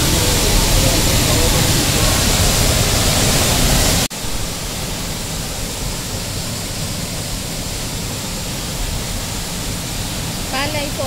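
Halay Falls in Laguna rushes as a loud, broadband roar of falling water, heavy at first and then slightly softer after a sudden cut, continuing steadily throughout.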